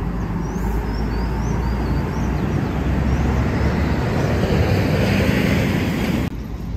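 A Gontijo intercity bus pulls out of São Paulo's Tietê bus terminal, a loud steady engine drone filling the busy station with a constant rumble until it cuts off abruptly near the end.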